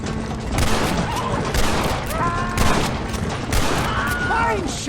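Repeated gunfire from Red Dead Redemption: several sharp, loud shots about once a second, each ringing out over steady background noise.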